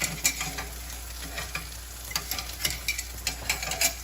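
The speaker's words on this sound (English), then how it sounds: "we're just going to heat up our omelet contents here" Omelette fillings heating in a pan for a crusty cheese omelette, a close bubbling sizzle punctuated by frequent sharp clicks and scrapes of a utensil stirring them.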